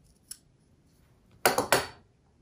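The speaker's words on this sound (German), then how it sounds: "Schere, wo bist du? Und schneide das jetzt hier ab." Scissors snip through dandelion stems at a table, one faint early click followed by a quick burst of three sharp, close crunching cuts.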